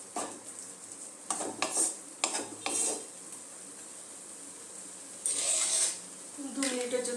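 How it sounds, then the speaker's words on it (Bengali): A spice paste for dahi begun sizzles softly in a pan while a utensil scrapes and clinks against the metal in irregular bursts, with some quiet talk in between. "দু মিনিটের জন্য মশলাটা একটু কষিয়ে নেব"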